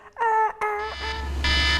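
A few loud electronic emergency alert tones sound in quick succession, harsh and buzzy, close by and alone.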